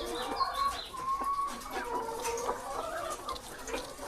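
Caged layer hens on a poultry farm cluck and murmur continuously at close range, overlapping calls forming a soft, busy chatter with no talking.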